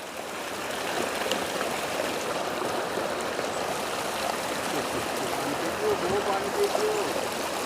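A natural mountain spring pours along a hillside path near a village garden, giving a steady, close, full rush and trickle of flowing water that holds constant throughout.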